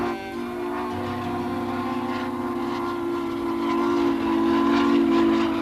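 A steam train runs steadily with a sustained whistle blowing throughout, loud and continuous over a low rumbling rail background.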